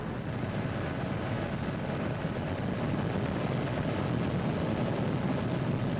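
A helicopter lifting out the grape harvest from vineyards gives a steady, continuous rotor and engine drone, broadband and unchanging, with no talk.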